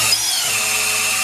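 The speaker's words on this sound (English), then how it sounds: "spin it with the drill, and see if we got oil pressure" An electric drill spins an engine oil pump through an old distributor shaft, making a steady, continuous high-pitched whine with a grinding rasp that holds unbroken throughout, loud and close with no talking.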